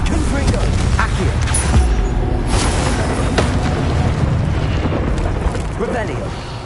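Confringo blasting spell explosions in Hogwarts Legacy amid combat, a loud continuous barrage of booming blasts and crackling bursts with a voice heard in the mix.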